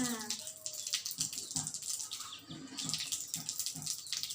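Water pours and splashes steadily for ablution, a close running, trickling stream with small splashes that continues throughout at a moderate level.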